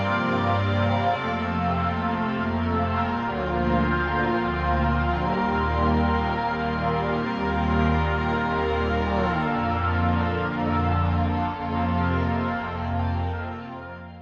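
Melodyne-edited audio with notes moved, stretched and faded until it resembles synth strings. It forms a sustained, layered pad of overlapping tones that swell and shift slowly, alone and fairly loud throughout.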